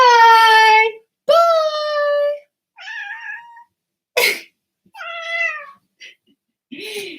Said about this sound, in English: I also wanna have maybe one of my cats say goodbye